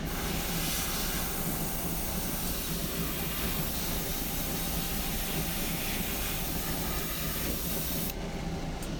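An airbrush sprays paint onto a wolf head, laid over a white base coat, giving a steady, continuous close hiss of compressed air that runs unbroken throughout at even loudness.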